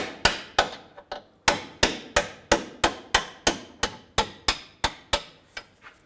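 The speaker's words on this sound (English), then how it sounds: "Now I'm going to use a punch on the back one." Metal punch struck repeatedly with a hammer to drive out the rear lower control arm bolt on a 2003-2007 Cadillac CTS, about fifteen sharp, ringing blows at a fairly steady pace, close and loud, no talking.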